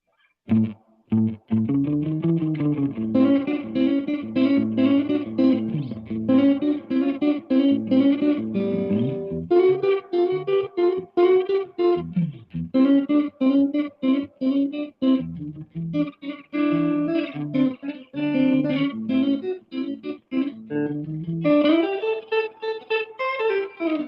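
A distorted electric guitar plays a loud, echo-drenched phrase through a Roland RE-201 tape echo on its fastest playback head, repeating notes smearing into quick, close slapback repeats with no talking.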